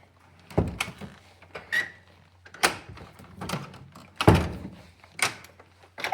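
A dormitory door is handled and locked, giving a series of irregular thunks, clicks and knocks from the latch and frame, close by with quiet gaps between.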